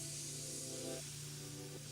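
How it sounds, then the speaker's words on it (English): Mobius airbrush spraying paint in a steady, continuous hiss, with a faint background hum and tonal whine that cuts out partway through, no talking over it. "And I'm just spraying. I'm not doing a pattern or anything like that."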